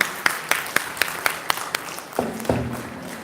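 An audience at an education conference claps in sparse, separate sharp claps at a steady rhythm, fairly close, before a voice briefly enters near the end.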